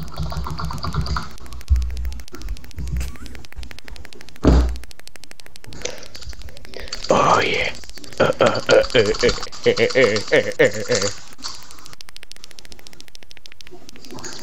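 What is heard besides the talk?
phone power button pressed repeatedly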